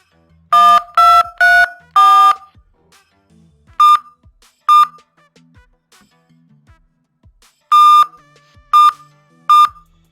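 A 1994 Nokia C16 bag phone gives loud, close electronic beeps while dialing: a fast cluster of three or four tones, then scattered single beeps and a final group of three, with quiet gaps between.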